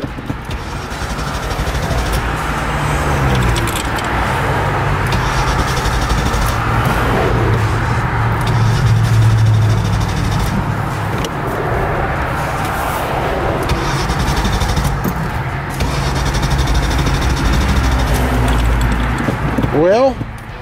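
A Ford Mustang GT engine cranks and struggles to start, a loud, steady churning that runs on without catching while people talk nearby.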